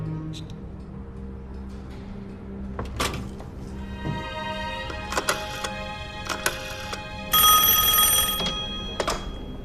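An old office desk telephone rings with a loud metallic bell in repeated bursts, amid soft clunks and handling sounds in a quiet room in a period spy drama.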